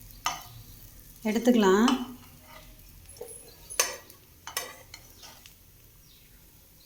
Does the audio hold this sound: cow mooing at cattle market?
no